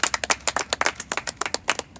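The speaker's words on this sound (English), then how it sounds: "So a round of applause for the team, I think, for pushing through. Yeah, a round of applause." A small group claps for a baseball team, a short burst of sharp, distinct claps close by in an uneven rhythm with no voices over it.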